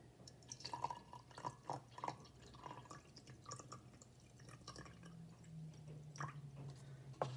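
Pink water poured onto a layer of honey in a density experiment: soft splashing drips and trickles, close and quiet, with an irregular patter over a low hum.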